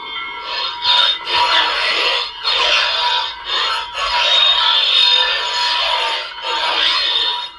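Darksaber 2.0 sound font on a Star Wars The Old Republic Ven Zallow lightsaber gives off a loud, harsh, crackling buzz that surges and dips in short swings, heard close and without talking.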